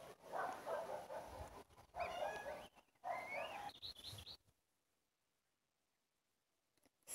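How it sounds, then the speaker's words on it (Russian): Small birds chirp and twitter in quick bursts near a nest outdoors, mixed with other busy background sound, before fading to near silence. "Такие птички что-то целый день летают здесь."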